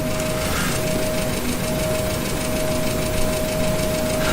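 Aircraft engines in a flight simulator game give a steady, loud droning hum with a constant tone, unbroken and even throughout, with no talk.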